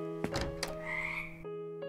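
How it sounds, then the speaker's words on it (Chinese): A frog croaks in a horror RPG video game, a few close, loud croaks in quick succession over a steady droning game background tone. "我没有踩到什么青蛙吧？"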